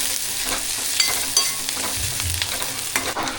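Chopped onion fries in a pan for kanda poha, a steady close sizzle with stirring scrapes running throughout and a brief low thump near the end.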